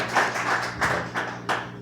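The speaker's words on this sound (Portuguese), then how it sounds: "Uma salva de palmas, por favor." A small bar audience claps after a performance at a vinyl bar club in Bauru, a few scattered, uneven bursts of clapping from close by, fairly quiet and without voices.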